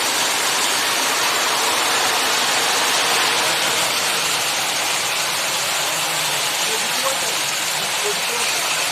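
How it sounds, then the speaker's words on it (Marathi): A steady, heavy wash of cloudburst rain and rushing floodwater fills the scene with a constant, loud hiss, unbroken from start to finish. "आणि पाऊस पण किती मोठा पडतोय बघा"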